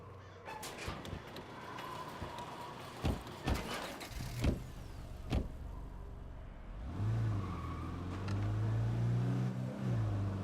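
A car driven in the video game State of Decay 2, with clicks and thumps of getting in, then a low engine hum that rises into steady revving as it pulls away, close and loud.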